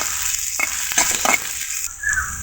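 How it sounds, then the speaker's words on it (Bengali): Chopped onions and green chilies split in half frying lightly in a pan, pushed around with a knife for a rohu fish curry; a bright hiss of oil with a few short scraping strokes, close and loud. "এগুলোকে ছুরির সাহায্যে এভাবে নেড়ে চেড়ে হালকা ভেজে নেব"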